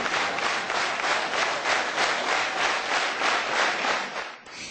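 A sold-out theatre audience applauds steadily after a two-hour stage musical adaptation of a cult film, a dense, sustained wash of clapping that holds evenly throughout and dips slightly at the very end.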